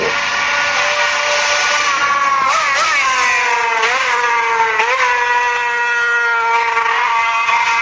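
A Yamaha racing motorcycle speeding along Quarterbridge Road during a road race, its loud, high engine note holding steady and then swooping in pitch as it passes close, alone without talk.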